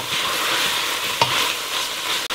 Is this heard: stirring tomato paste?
yes